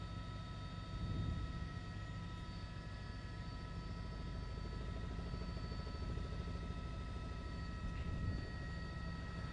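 A news helicopter hovers over a school bus crash scene in Mount Olive, New Jersey, its engine and rotors making a steady, droning hum heard from inside the aircraft, with no talking.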